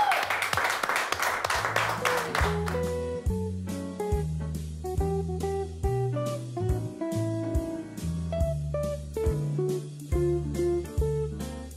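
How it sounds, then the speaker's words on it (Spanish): A crowd claps and applauds loudly for a couple of seconds, then the clapping fades as music with steady bass and melody takes over. "Fuerte el aplauso"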